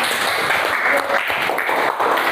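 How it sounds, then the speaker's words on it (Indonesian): Classroom audience clapping hands in applause during a teacher-training group presentation session, a dense steady patter of many hands filling the whole stretch at moderate loudness. "Sekali lagi tepuk tangan."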